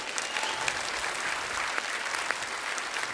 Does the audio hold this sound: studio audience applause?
yes